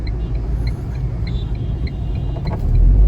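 Heavy rumble of a lorry on the road near a dam, loud and close, with a deep low drone building toward the end as it passes, plus faint higher whines above.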